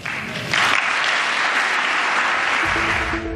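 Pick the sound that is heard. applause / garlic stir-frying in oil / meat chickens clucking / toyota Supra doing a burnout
applause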